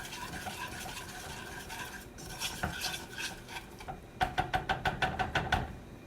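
A spoon stirs and scrapes through a honey glaze mixed with pineapple juice in a pot, first as a soft continuous swirl, then as a quick, even run of about ten close, distinct scraping strokes.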